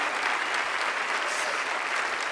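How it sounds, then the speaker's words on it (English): A magic-show audience breaks into dense, steady applause, a full wash of clapping that holds at an even level from start to finish. "That gets applause?"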